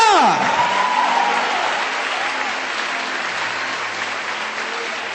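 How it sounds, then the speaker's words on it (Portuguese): Congregation applauding during a Sunday church service, a dense, steady wash of clapping that starts loud and eases slightly, with a voice briefly heard at the very start over it. "dê um forte aplauso a ele nesta manhã"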